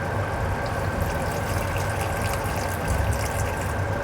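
Red wine pours into a cooking pot with onions as braised cabbage is made, a continuous close liquid gush and splash that runs unbroken for the whole few seconds.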